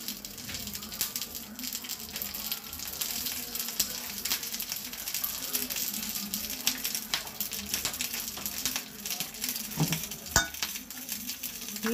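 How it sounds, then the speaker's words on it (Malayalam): Mackerel fries in a small amount of oil with a few curry leaves in a pan, giving a steady close sizzle and crackle with occasional light utensil clicks throughout. "ഒരു തുള്ളി എണ്ണ പോലും ബാക്കി വരാതെ നമ്മൾ പൊരിക്കുന്നു."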